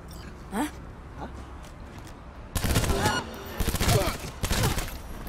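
Gunfire in Cyberpunk 2077 out in Night City, starting with a few scattered quiet shots, then breaking into loud, rapid bursts of automatic fire that come in repeated volleys.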